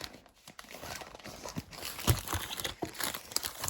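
A newly bought notebook is unwrapped, its packaging crinkling and crackling in short, irregular bursts with a few sharper snaps, close and fairly quiet.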